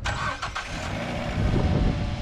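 A car engine cranks with a brief stutter, catches, and settles into a steady, low idle rumble, fairly close and loud.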